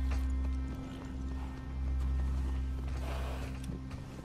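A horse's hooves clip-clop at a steady walking pace in The Last of Us II, close and continuous over a low droning game background.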